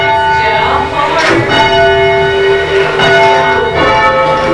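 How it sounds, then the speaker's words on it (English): A small bell in a memorial bell tower, rung by rope pulls, sounds in sustained, ringing tones that keep swelling with each pull, close and loud, with faint voices underneath. "It's a really little bell."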